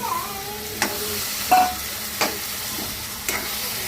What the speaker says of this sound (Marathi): सुटले, आता टाकूया शेवग्याच्या शेंगा.